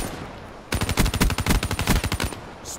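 Rapid automatic gunfire from a gun in Call of Duty Black Ops III rattles in a sustained burst of about a dozen and a half close, loud shots.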